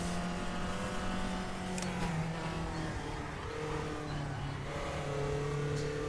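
Race car engine in RaceRoom, driven on and off the throttle, a loud continuous drone whose pitch climbs and dips as the driver lifts and reapplies power, with a couple of brief sharp transients.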